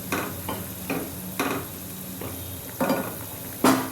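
Salt being stirred into Kathiyawadi dhokli curry in a pan, a spoon scraping and clinking against the metal in a slow rhythm of about eight strokes, close and moderately loud over a soft sizzle.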